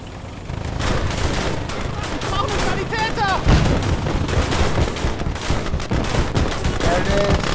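Sustained bursts of machine-gun fire rattle in the Kampfgruppe video game, loud and dense, with distant booms and whistling tones layered in, and no talk over it.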